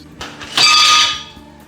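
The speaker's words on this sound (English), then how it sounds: "Now I get those ice cubes." Ice cubes drop into a blender jar for a frozen margarita, giving a short bright clatter that swells and then rings off over about half a second, close and alone.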